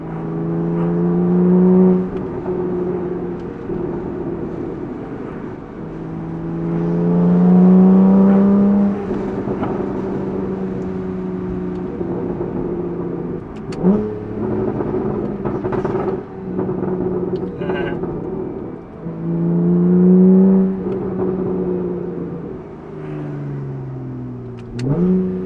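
A Porsche 911 Carrera 4S of the 991.1 generation with a Valvetronic Designs exhaust revs loudly and nearby. Its engine climbs and falls through repeated throttle blips with a deep, resonant tone and no talking.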